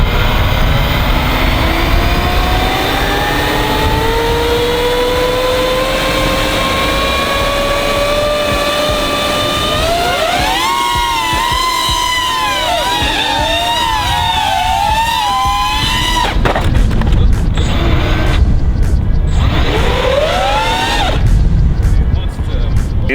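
A small homemade Baby Yoda drone flies with high, whining rotor tones that rise and waver as it maneuvers, loud and continuous, while people talk over it.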